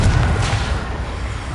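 A Confringo blast spell goes off in Hogwarts Legacy, a loud booming thud at the start that rolls into a rumbling, fading wash of low noise.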